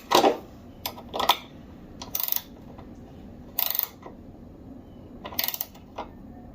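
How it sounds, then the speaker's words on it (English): A half-inch wrench turns a door hinge bolt on a 1999 Chevrolet Suburban during a door bushing replacement, giving several short, close metallic clicks and ratcheting bursts separated by quiet pauses. "Half-inch wrench on there."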